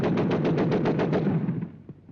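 A burst of rapid gunfire from merchant marine gunnery practice aboard ship in 1942 gives about a dozen evenly spaced heavy shots in quick succession, loud and close, then fades into a reverberant tail.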